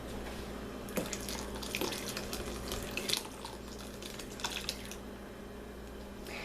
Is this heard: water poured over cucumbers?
yes